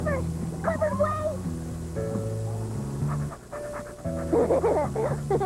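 Cartoon dog from a kids' show panting in quick rhythmic breaths, mixed with bright music and whimpery vocal sounds throughout, close and moderately loud.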